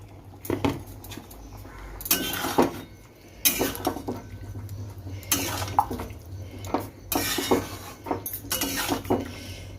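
Cauliflower pieces go into a cooking pot where potatoes are already boiling, making repeated metallic clanks and clatters of utensil against the pot in irregular bursts, close and fairly loud.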